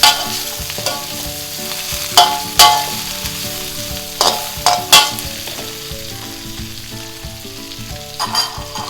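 Garlic frying in a pan over medium heat for a Thai basil shrimp stir-fry, a steady crackling sizzle with repeated sharp scrapes of a utensil stirring against the pan, close and fairly loud.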